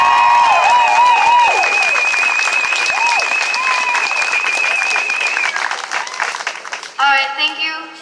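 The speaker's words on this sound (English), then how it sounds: "make some noise for Sophia, y'all" Crowd at an outdoor justice march applauds and cheers loudly and steadily for a speaker, with whoops and shouts over dense clapping that thins out near the end.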